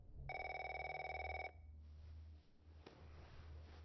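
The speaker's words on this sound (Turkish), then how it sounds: "Gecenin sessizliğini amansız bir telefon böler." A telephone rings loudly at night in a short burst of bright, rapid trilling bell tone, then stops, leaving a low hum and quiet room ambience.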